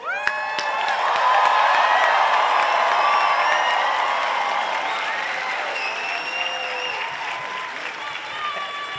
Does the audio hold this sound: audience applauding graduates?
yes